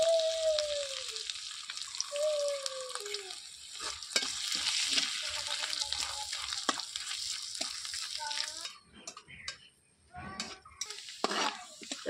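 Bay leaves, garam masala and chopped ginger fry in oil with a lively crackling sizzle and stirring scrapes. A voice speaks briefly at the start, and the frying rises and falls near the end.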